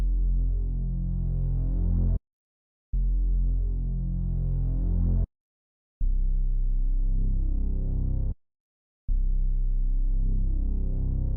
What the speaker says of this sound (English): And this is what the bass sounds like